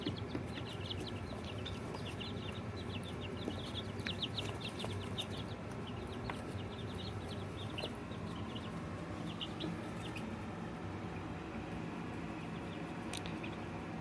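Young hatchling chickens in their brood coop inside a shed, soft scattered clucks and peeps over a steady low background hum, fairly faint and continuous.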